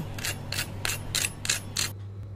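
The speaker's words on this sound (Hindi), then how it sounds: "आवाज़ सुना कितना क्रिस्पी है ये पोटैटो वेजेस" Six crisp, crunchy bites of fried potato wedges in a quick, even rhythm, close up, followed by a brief quiet moment.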